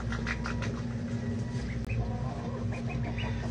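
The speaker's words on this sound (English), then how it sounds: "I have some pet ducks" Pet ducks call in a steady stream of short clucking and chirping notes over a constant noisy background, with no talking.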